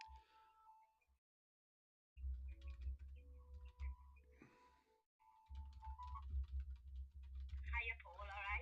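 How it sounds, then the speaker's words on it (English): Typing on a computer keyboard: quiet bursts of clicking keystrokes separated by short pauses, along with faint electronic chirp tones. "I'm typing somebody online"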